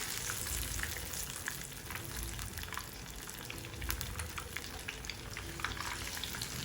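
Lahori fish pieces deep frying in hot oil, a continuous soft bubbling sizzle with faint crackles, steady and fairly quiet, no talking.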